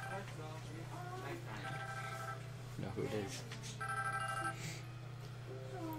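A telephone rings in a Black Ops Zombies match on the Kino der Toten map, its repeated electronic ring tones sounding over a steady low game hum while a player talks through most of it.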